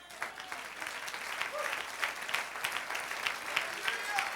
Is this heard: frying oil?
no